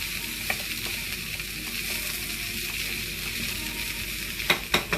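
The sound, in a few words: stirring boiled peanuts with salt in a pan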